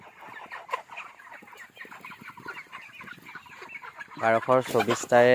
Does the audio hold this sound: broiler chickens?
yes